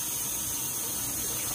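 Cold tap water runs steadily over rice in a container, a continuous close hiss of flowing and splashing water with no talking.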